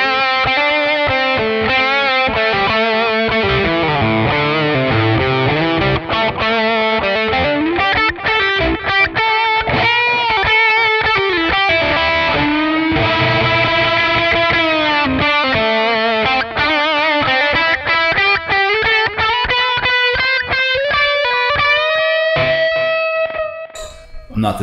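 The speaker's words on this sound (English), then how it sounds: "And then I have a lead sound at the end." Distorted lead electric guitar played through a NUX Cerberus multi-effects pedal, a loud continuous solo of sustained bent notes and quick runs that fills the whole passage without pauses and cuts off abruptly at the very end.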